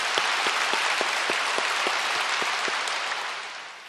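A church congregation applauds loudly and steadily throughout, a dense wash of clapping from many hands that tapers slightly toward the end, with no voices standing out.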